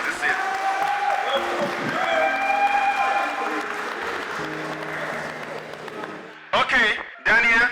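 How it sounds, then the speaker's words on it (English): Applause from an audience at a Valentine's speed dating event with fifty singles, a steady wash of clapping and crowd noise that fades away, followed by short bursts of loud speech. "Round of applause for Priye as he leaves the scene."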